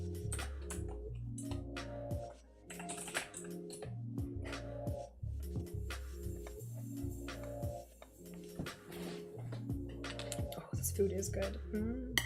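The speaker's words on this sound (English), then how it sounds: "Keyboard." Computer keyboard typing at a home desk during a coworking session, steady clusters of quick key clicks with brief pauses, fairly close and moderately loud over a low background hum.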